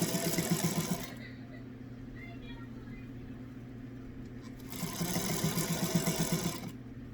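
A sewing machine stitches a blue fabric mask with white thread in two close, rapid mechanical bursts, separated by a quiet pause of several seconds.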